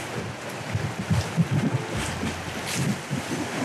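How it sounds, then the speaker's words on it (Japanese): Rushing water and splashing spray from a boat ride down a fast stretch of the Arakawa river in Nagatoro, heard up close as a continuous turbulent wash with wind buffeting the microphone and bursts of splashing. "水しぶきがすごい。"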